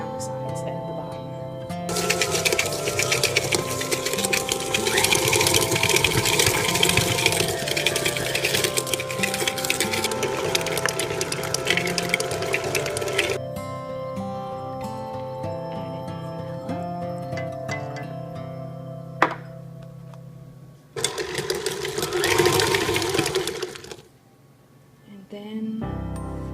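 Food processor blending cheesecake batter with egg and heavy cream, a loud whirring motor run for several seconds, then a stop, followed by a second short burst of blending, with a person talking between runs.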